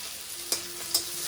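Oil hisses steadily as greens are stirred in a pan, with two brief scraping clatters from the spatula; close and moderately quiet.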